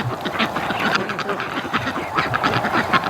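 Several quacks from breeding ducks come in a loose series, moderately close and somewhat soft, mixed with background flock noise and faint talk.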